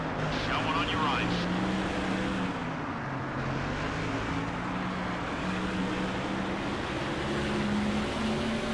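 A NASCAR stock car engine in the racing game NASCAR Thunder 2004 holds a steady droning tone with slowly shifting pitch during a race at Daytona. Other cars pass with a brief whoosh near the start.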